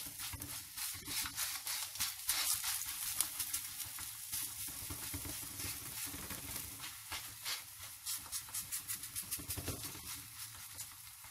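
Makki roti, a maize-flour flatbread, cooks on a hot griddle with a steady close sizzle and crackle running throughout, alongside soft patting and pressing sounds and no talking.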